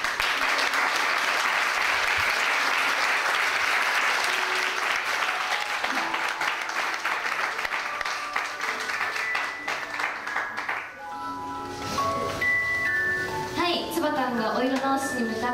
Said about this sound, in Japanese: 皆様拍手でお送りください